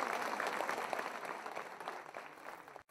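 A church congregation applauds during a Sunday service, a dense steady clapping that fills the space and then fades out and stops.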